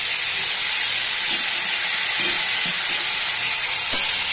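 Figs and strained yogurt sizzle and hiss in a hot pan on a low gas flame, a steady loud frying crackle broken by a few scraping stirs close by.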